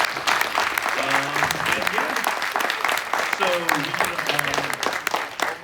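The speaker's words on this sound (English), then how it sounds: "Give them one last round of applause, everybody" Sustained audience applause fills a film festival screening room after a shorts program Q&A, steady dense clapping throughout with a voice speaking over it.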